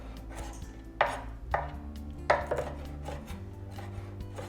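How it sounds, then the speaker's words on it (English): A knife chops fresh dill on a cutting board with a few sharp, close thuds at an uneven pace over a low hum, and no one speaks. "we're just gonna give that a nice little chop there"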